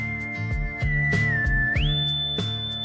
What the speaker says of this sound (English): One of those keyboards that sounds like a whistle.